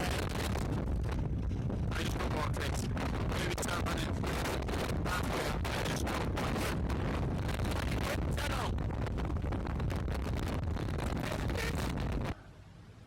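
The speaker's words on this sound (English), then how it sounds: "40 to 45 mile an hour winds." Strong 40 to 45 mph wind buffets the microphone outdoors during marathon training, a loud, continuous roaring rumble with gusty pulses that drops off abruptly near the end.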